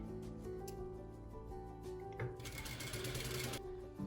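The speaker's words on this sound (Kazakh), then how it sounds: "Міне аптачка мен планканы лентаға қосып тігіп жатырмын." A sewing machine runs a straight seam joining facing and placket to a ribbon on an ethnic-style chapan, a steady fast motor whir with dense stitching ticks, louder toward the end.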